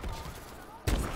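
Video game gunfire: softer shot-like rattles give way to a loud, heavy burst of shots near the end, close and punchy.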